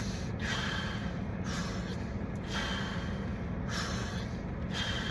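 Rapid, forceful rhythmic breaths in the Wim Hof method style, several sharp inhale-exhale cycles close to the mic against a steady background hiss, with no talking.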